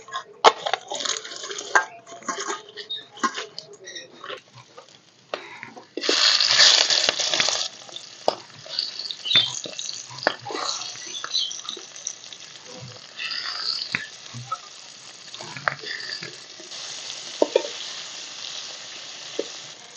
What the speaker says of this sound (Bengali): প্রথমে মাছগুলো একটু হালকা করে ভেজে নেব।